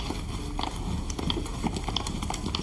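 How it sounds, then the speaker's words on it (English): Loud, hard footsteps from a TV episode clatter in a quick, steady run of close, sharp impacts over a dense, busy background. "The uncomfortable, loud footsteps."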